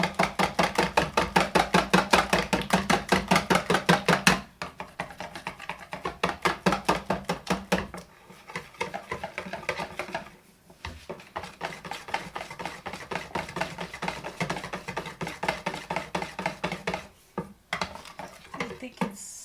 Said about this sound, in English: Mix them well, guys, so that you don't have lumps of flour